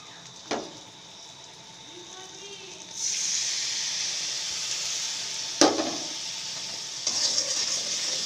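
Water poured into a hot pan of sizzling spices with kasuri methi, a short clatter followed by a loud hissing sizzle that carries on steadily, with a few more brief knocks of stirring.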